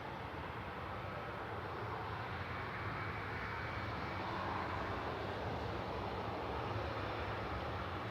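An Airbus A320 departing Manchester Airport for Corfu gives a faint, distant, continuous engine roar that swells slightly and holds steady throughout.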